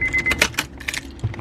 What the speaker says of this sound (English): Turn the ignition on.